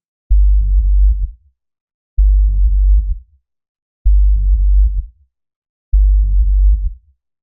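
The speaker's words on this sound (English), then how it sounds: "It's adding this reverb tail." Four loud, deep sub-bass notes repeat at an even pace, each holding for about a second before trailing off into a brief reverb tail, with silence between them.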